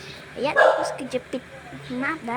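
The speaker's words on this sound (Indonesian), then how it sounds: "abaikan saja suara guguk ini" A small dog barks and yips repeatedly close by, the high sharp barks overlapping with a person talking.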